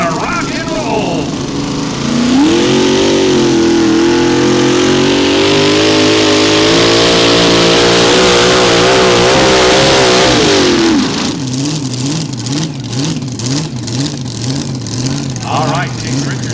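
Modified mini tractor with a 575 cubic inch, roughly 3,000 horsepower engine roaring at a tractor pull in Nashville, a loud sustained rising and wavering drone, with an announcer talking over it.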